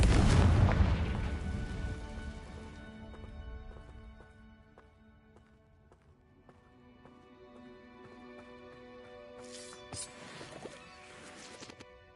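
The Confringo explosive spell in Hogwarts Legacy goes off as a loud, close blast that rumbles and fades over a few seconds, followed by quieter game ambience and a later softer burst.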